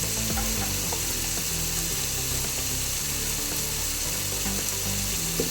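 Spices with Kashmiri chilli powder and chilli flakes stirred in a frying pan for tomato rice, a constant loud sizzle and hiss with scraping strokes of a spoon against the pan, close and alone.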